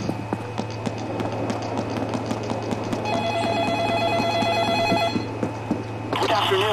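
Telephone ringing inside a PayDay 2 game level, repeated electronic trill bursts in the middle of the clip over a steady hum, with people talking throughout.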